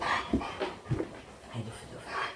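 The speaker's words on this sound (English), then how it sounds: "There's a dog, hang on." A dog panting close by in a home, quick rhythmic breaths with soft whimpers, fairly quiet over background room noise.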